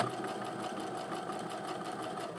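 Sewing machine stitching a quilt block seam, a steady fast rhythmic whir and clatter close by, continuous and even throughout with no talking.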